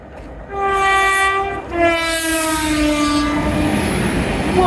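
Small steam train on a pier ride sounds a loud two-toned horn blast twice, with the hum of the passing carriages continuing beneath.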